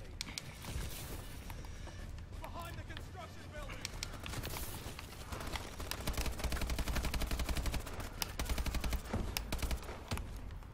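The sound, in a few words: AK-12 rifle gunfire in a video game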